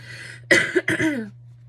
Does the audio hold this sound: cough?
yes